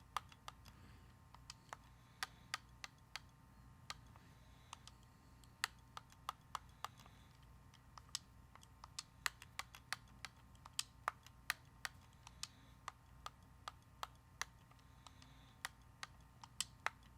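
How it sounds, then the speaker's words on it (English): Quiet typing on a computer keyboard in a cozy basement setting, soft irregular key clicks and taps scattered over a faint steady background hum. "I like the typing sounds."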